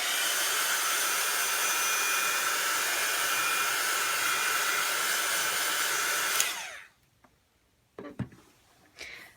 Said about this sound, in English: I'm going to just turn my heat gun on just for a second to dry this out.